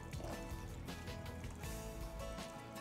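Beef broth poured into a pot of beef stew with meat and vegetables, a continuous close liquid splashing and gurgling lasting a few seconds, with no talking.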